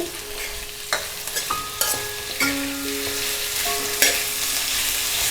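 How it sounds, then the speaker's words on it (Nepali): Green onion and chillies stirred into boiled potatoes in a hot pan for gundruk curry, a steady loud sizzle broken by scattered scraping clinks of the spoon against the pan. "यसमा चाहिँ म यो हरियो प्याज र खुर्सानी सँगै राख्छु। यसलाई चलाउने।"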